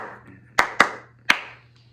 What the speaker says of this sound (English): The hand clapping in the song,